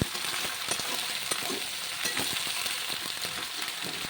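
Eggplant and other vegetables for labra being stirred and fried in a pan, a continuous close sizzle with frequent scraping spatula strokes, no voices.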